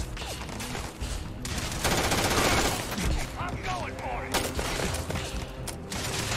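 Rapid gunfire from the video game Starfield, a dense run of overlapping shots and bursts lasting the whole clip with a steady loud level, mixed with game effects and someone talking over it.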